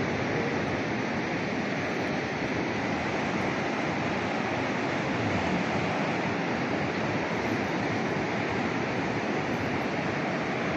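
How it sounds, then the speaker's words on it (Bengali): Sea waves breaking on the beach at Digha, a dense, continuous roar of surf with steady wind noise on the microphone, unbroken and loud throughout with no voices. "এখান থেকে দেখুন সমুদ্রটা কত সুন্দর দেখাচ্ছে।"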